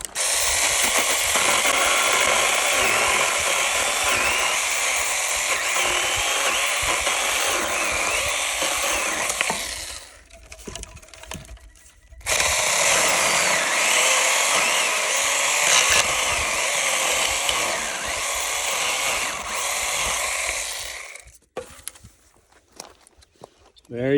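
A cheap battery-powered toy-like chainsaw runs with a steady, high buzzing whine, cuts out for about two seconds, then starts up again and runs before stopping near the end; no one speaks.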